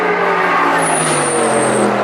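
A Porsche 918 races up the Goodwood Festival of Speed hill climb and crosses the finish line, its engine loud and close with a rising whine over a broad roar and a high tonal sweep in the middle.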